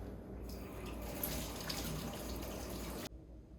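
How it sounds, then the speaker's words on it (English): Hands being washed thoroughly under a running tap in a sink during a hygiene routine, a steady close rush of water with faint splashes that stops abruptly near the end, without speech. "thoroughly hand wash for 20 seconds again"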